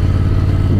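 A custom cruiser motorcycle rumbles past on a village road in the Alps, a loud, close, low engine drone held steady for under a second.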